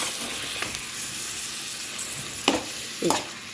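Fried chicken stirred into masala in a hot pan, with a constant sizzling hiss broken by a few louder scraping strokes of the spoon, heard close with no talking.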